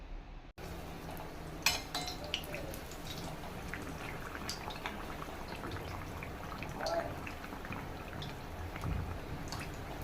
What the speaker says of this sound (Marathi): आता दुसऱ्या बाजूने सुद्धा पॅटीस तळून घेऊया